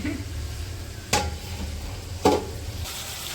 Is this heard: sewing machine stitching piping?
no